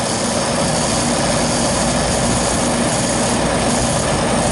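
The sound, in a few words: refrigeration compressor running during pump-down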